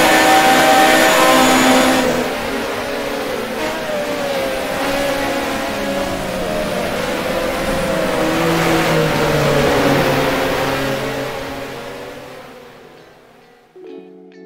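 A Renault Formula One car engine in the racing video game Grand Prix Classics 1979, a loud, steady synthesized engine drone whose pitch sweeps up and down through gear changes around a circuit, fading out at the end.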